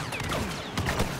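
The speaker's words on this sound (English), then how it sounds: "I'm shooting them now" A short flurry of blaster fire in a Star Wars Battlefront match on Bespin, several quick shots overlapping with game effects at moderate loudness.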